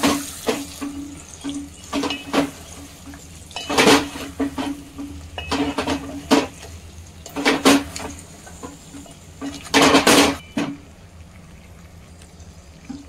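Spices being stirred and mixed in a cooking pot for a raw mango kalonji dish, with repeated clattering scrapes in irregular bursts, close and fairly loud, with no talking.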